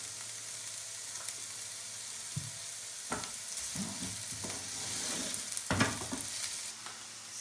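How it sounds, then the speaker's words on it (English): Frozen chopped garlic frying in a pan, a constant bright sizzle with scattered louder crackles and stirring scrapes, close up and moderately quiet. "And then we are also going to add a teaspoon of frozen chopped garlic."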